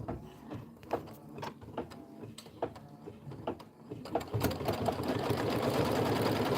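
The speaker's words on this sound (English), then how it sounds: "You're going to stitch the mushroom house stem fabric tack down" An embroidery machine stitches a tack-down of fabric for a mushroom house stem in a hoop, first with a quick rhythmic clatter, then a louder, denser, continuous whir in the last couple of seconds.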